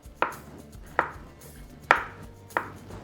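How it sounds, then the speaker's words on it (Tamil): Four crisp knife chops slicing green plantain on a cutting board, spaced irregularly about a second apart, close and clear with no talking. "இதில் நம்ம மெலிஸ் மெலிஸாக துண்டுகளை போட்டுக்கணும்"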